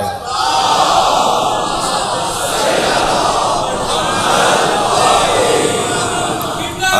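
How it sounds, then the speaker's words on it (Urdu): A large religious gathering loudly chants salawat together, a dense, sustained wall of many voices rising and falling in unison for several seconds. "بلند تر صلوات پڑھیں"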